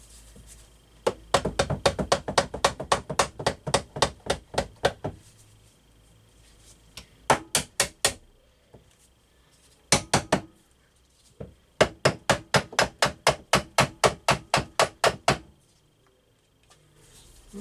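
A Husqvarna TC65 / KTM 65 SX engine's cases are tapped apart with a hammer, sharp metallic knocks in quick, even runs of about a dozen blows, separated by short pauses, close and alone.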